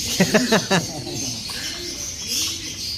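Pigeons being boxed in a training box give several soft throaty coos near the start, followed by quieter cooing and background murmur.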